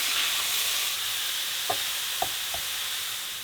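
Fine gluten-free cottage pie mince browning in a pan, a steady close sizzle and hiss throughout, with a few soft scrapes as it is stirred to break up lumps.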